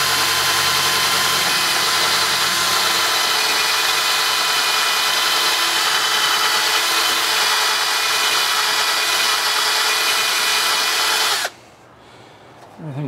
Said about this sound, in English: Just give it a quick zap with the wire brush.